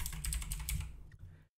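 Computer keyboard typing, a quick run of clicky keystrokes heard up close for just over a second, fading toward the end.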